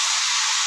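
Vegetables for a mung dal dish frying in a pan, a steady close sizzling hiss with no talk over it.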